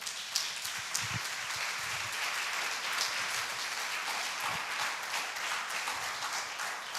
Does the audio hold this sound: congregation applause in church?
yes